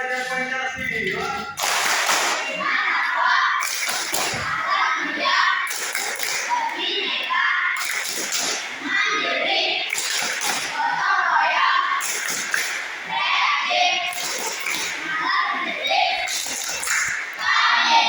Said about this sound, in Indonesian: Tepuk profil pelajar Pancasila.